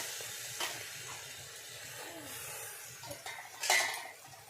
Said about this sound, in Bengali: আবারও একটু নেড়ে দিচ্ছি দেখো ডাল সেদ্ধ হয়ে গেছে